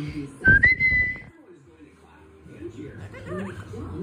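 A dog makes a high, rising whistle-like whimper followed by soft whining and snuffling sounds, fairly close, with no words spoken.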